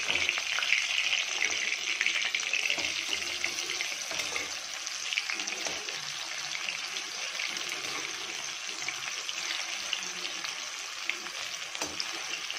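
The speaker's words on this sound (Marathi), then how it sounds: "आता आपली जी कोलंबी आहे तिला आपण दोन्ही साइडने लो फ्लेम वरतीच फ्राय करून घ्यायचे," Prawns frying in oil on a low flame give a steady, close, bubbling sizzle that continues without pause, with faint stirring underneath.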